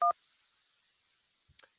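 A phone-line call connects with a short, loud burst of dual-tone dialing, then near silence broken by a faint click and a brief blip, with no speech.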